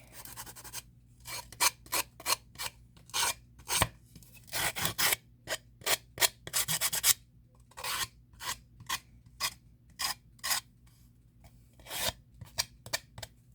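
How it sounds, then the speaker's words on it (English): Close-up hand sanding of clay, with rapid rasping strokes in short irregular bursts separated by brief pauses, loud and near. "I'm sanding it down"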